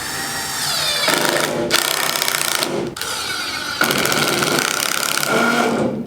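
Power drill driving screws into a board on a dump trailer side wall, several loud, close bursts of whining motor separated by brief pauses, with no talking.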